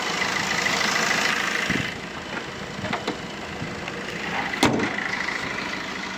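A 2013 Tata Vista LS Quadrajet diesel car engine idling, a steady low diesel rumble with a slight knocking texture and a few sharp clicks, close by and without talk.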